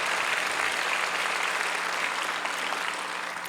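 Audience applause at a large church peace-unification revival service, dense steady clapping filling the whole stretch at even loudness with no speech over it.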